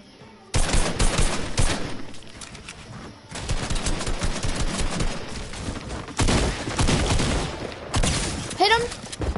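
Dense bursts of video game gunfire in what sounds like a Fortnite match on PS4, loud and continuous with brief pauses between volleys, chaotic overlapping shots and effects throughout.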